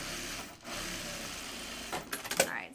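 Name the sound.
sewing machine stitching fabric from the canvas side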